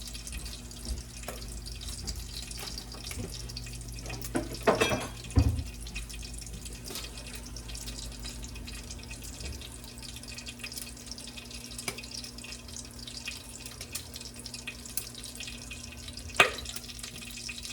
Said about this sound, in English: I'm going to just get a cup of water in case I need more liquid.